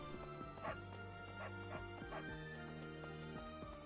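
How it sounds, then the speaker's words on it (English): Several dogs barking, yipping and whimpering in Fire Emblem: Three Houses, a quick run of clear, close barks over steady game music with no talking. "Hey, over here. Dogs! Pet doggo."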